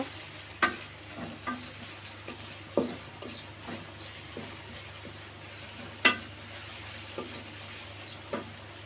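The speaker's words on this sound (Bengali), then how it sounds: "লবণ দিয়ে একটু নাড়া দিয়ে নিব" A vegetarian curry of jackfruit seeds and drumsticks is stirred in a pan after salt goes in: a faint, low sizzle over a soft hum, with scattered light taps and scrapes of the spoon.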